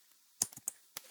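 Several sharp key presses on a computer numeric keypad, four or five quick clicks spaced unevenly over about a second, close and fairly quiet with no talk.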